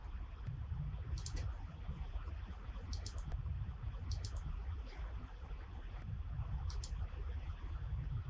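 Mouse clicks in Zeplin while an annotation is added to a card component, brief clustered clicks at scattered moments over a steady low background hum, fairly faint.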